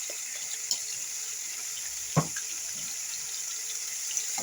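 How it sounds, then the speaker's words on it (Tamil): Water trickles from a tap or jug into liver masala (ginger-garlic paste, pepper, cumin, chilli) frying in a pan, a steady faint hiss with one brief louder splash midway and no talk. "கொஞ்சமாக தண்ணி ஊற்றி வதக்கணும்."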